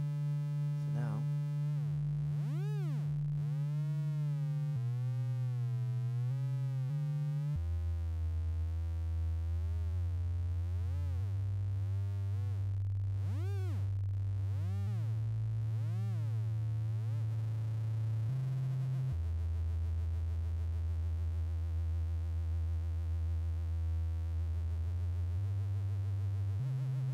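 Synthesized oscillator tone built in Reaktor for a cinematic bass, a steady low hum that shifts pitch in steps while a modulated, warbling overtone sweeps above it, continuous and loud with no talking.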